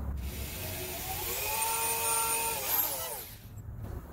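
A power drill spins up with a rising whine to bore a tiny pilot hole for mounting two hooks, a short close burst of steady motor drone that winds down and stops.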